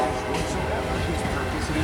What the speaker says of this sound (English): We've got a train sitting on the main and somebody going around in the siding.